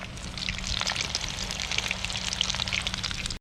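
Parrotfish fillet frying in a hot pan, a steady dense sizzle with crackling pops running evenly throughout, close and fairly loud with no voices.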